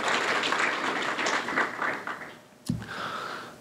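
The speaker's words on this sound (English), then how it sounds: "give a big round of applause for all of you that contributed to this" A tech-talk audience gives a round of applause, a moderate crowd clapping that fades out, followed by a brief bump and a faint tail.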